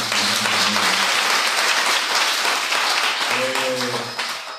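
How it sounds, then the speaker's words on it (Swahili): A church congregation in Laare, Kenya claps loudly in sustained applause, with voices speaking over the clapping at the start and again near the end. "Sisi tunaweza kuwapigia makofi"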